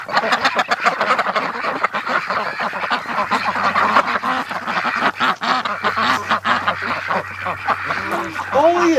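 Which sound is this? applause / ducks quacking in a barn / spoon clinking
ducks quacking in a barn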